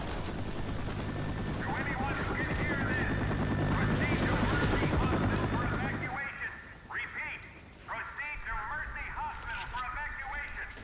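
A helicopter in the video game Left 4 Dead 2 at the start of the Mercy Hospital campaign, a loud thudding rotor drone that cuts off sharply partway through, leaving quieter chirping game sounds behind.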